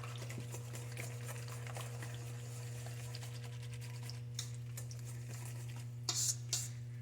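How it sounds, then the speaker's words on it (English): A whisk stirs muffin batter of milk, eggs and cranberries in a bowl, giving faint soft taps and scrapes over a low steady hum, with a few sharper clinks near the end. "I'll whisk that a little bit since it's got those eggs in there."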